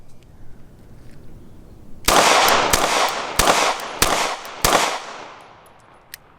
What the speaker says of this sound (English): We're going to finish it out with the G3, which is the full-size gun.